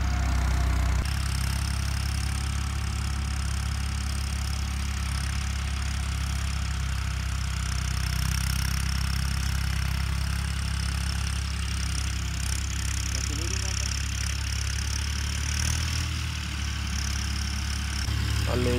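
A New Holland tractor engine runs steadily throughout, a continuous low, throbbing rumble at an even, close, loud level, with no voices.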